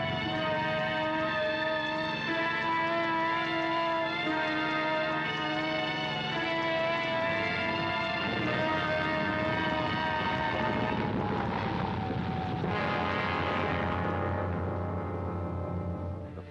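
A shot-up naval plane comes in to land on an aircraft carrier, its engine a loud, steady droning hum that holds throughout and shifts in pitch and roughness near the end, with no voices.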